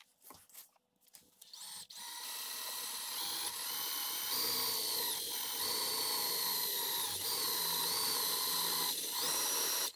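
A power drill runs steadily on a Polaris RZR A-arm, a loud sustained whine that starts after a brief quiet scuffle and holds for most of the stretch, with small pitch shifts as it bites.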